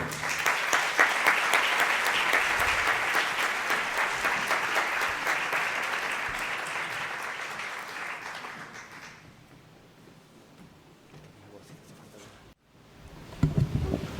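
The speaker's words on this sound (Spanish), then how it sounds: "Un fuerte aplauso." An audience at a book talk bursts into loud, sustained applause that carries on for about nine seconds and then fades, followed by a quieter room and a few stray sounds.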